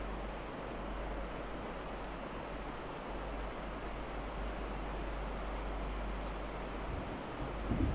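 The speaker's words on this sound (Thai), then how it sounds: "ฝนตก" Rainy-season rain falls in a steady, even hiss with a low rumble beneath, continuous and moderately faint throughout, with no voices.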